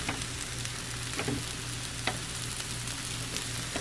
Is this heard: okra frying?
yes